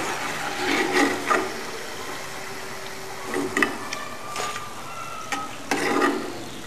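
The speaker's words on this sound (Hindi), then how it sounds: "मीडियम फ्लेम पर हमने इसे तल लिया है।" Nachos frying in oil over a medium flame: a soft, steady sizzle with intermittent stirring clinks and scrapes, fairly quiet and close, with no talking.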